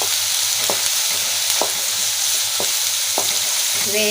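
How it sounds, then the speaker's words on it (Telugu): Onions sizzle steadily as they fry in a pan, with a handful of distinct scraping stirs breaking through the continuous crackle at a roughly even pace. "కొంచెము రెడ్ అయింది ఎల్లిపాయ. ఇలా కలిపేస్తున్నాను"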